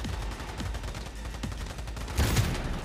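Bursts of gunfire crack out in scattered shots in the video game Cyberpunk 2077, with a heavier volley near the end, moderately loud against a low rumble.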